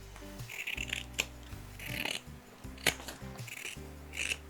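Fabric being trimmed with scissors after stitching a sewing project, several short crisp snips and rustles spaced through the stretch over a low steady hum.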